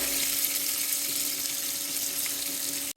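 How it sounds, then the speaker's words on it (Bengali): Chopped onions frying in oil in a pan while fresh Indian threadfin fish is being cooked, a steady close hiss and crackle of sizzling throughout, ending abruptly. "পেঁয়াজ ভেজে নেব"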